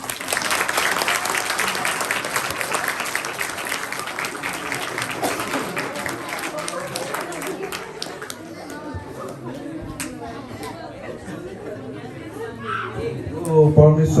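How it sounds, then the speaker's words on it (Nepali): A church congregation claps along during worship, a dense burst of hand clapping at first that thins into scattered claps and murmuring voices, with someone speaking over it. "ताली बजाऊँ है।"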